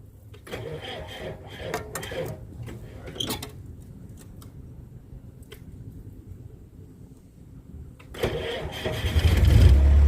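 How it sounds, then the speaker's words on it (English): A Bobcat skid steer loader's diesel engine cranks and sputters, then catches and roars into a loud, rumbling idle nearby. "I'm running the bobcat"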